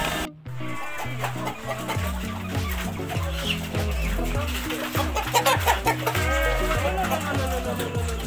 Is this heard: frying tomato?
no